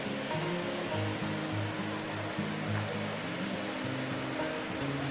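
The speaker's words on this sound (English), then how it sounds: "the water just flows at the steps" Water from the Srinivasa Sagar Reservoir near Chikkaballapur pours over the dam's stepped spillway, a loud, steady, close rushing roar that holds without a break and carries no voices.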